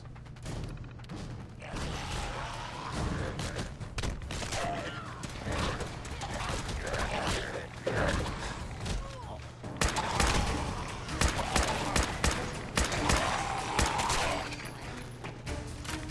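Turrets open fire in the video game Fallout 4, rapid bursts of gunfire and impacts mixed with game effects, loud and busy throughout, with voices underneath.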